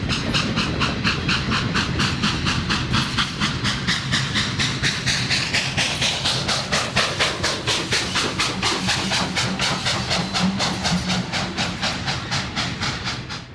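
Union Pacific 844 steam locomotive hauling a freight train up Archer Hill, its exhaust chuffing in a rapid, steady rhythm with loud hiss, close and powerful, with no talking over it.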